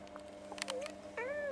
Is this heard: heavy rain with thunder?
no